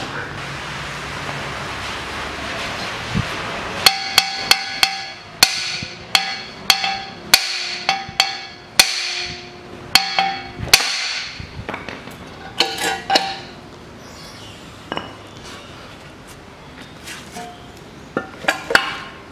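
A part is hammered off the front hub of a 2003 Toyota Harrier during a front wheel bearing replacement. Irregular sharp metallic hammer blows ring out close up over a steady background hiss.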